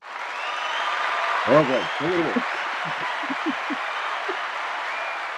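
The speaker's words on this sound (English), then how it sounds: "Let's give Nadia Colon a round of applause." An audience applauds to welcome a guest speaker on a talk show, a steady wash of clapping running the whole way while someone talks over it.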